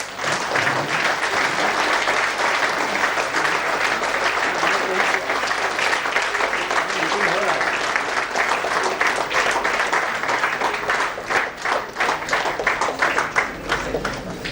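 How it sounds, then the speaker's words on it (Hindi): A standing ovation at an IAS officers' felicitation function swells into loud, sustained applause from a large crowd, thick and unbroken for the whole stretch, with voices mixed into the clapping. "खड़े होकर उनका स्वागत करें, तालियों से करें"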